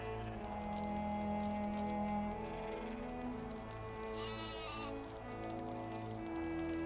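Goats bleating in the Medieval Dynasty video game, a few calls over a steady bed of game music and ambience, moderately loud and with no talk over them.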